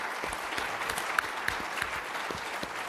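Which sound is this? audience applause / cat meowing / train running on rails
audience applause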